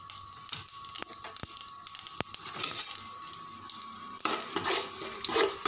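Chana dal and cashews stirred in a hot pan for vegetable rava kichadi, an ongoing sizzle with scraping and sharp metallic taps of a spoon against the pan, close up and without speech.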